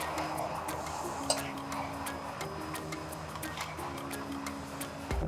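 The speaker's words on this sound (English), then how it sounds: "I just want to give this a nice stir." A spoon scrapes and taps against a pot of conch stew, small clicks and knocks repeating irregularly, close and fairly quiet over a low steady kitchen hum.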